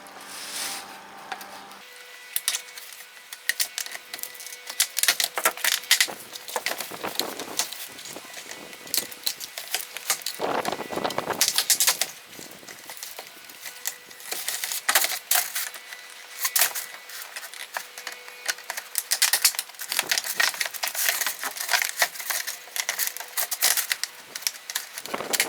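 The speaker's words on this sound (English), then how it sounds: "I'm going to do it with these shears." Shears snipping through vinyl siding for a garbage can enclosure, a run of crisp irregular cuts and plastic crackles close by, steady and continuing with short pauses and no talking.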